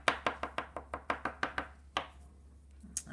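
Crayons dab small dots of colour onto paper in a quick series of about a dozen light, evenly spaced tapping knocks, close and faint, then a pause and a couple more taps.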